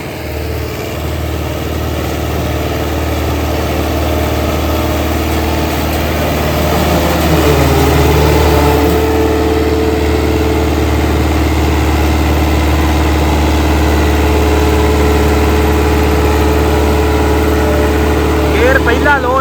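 A New Holland 850 tractor running in first low gear with a 60-cutter Supreme super seeder, a steady close diesel drone that swells slightly midway, with a voice talking over it.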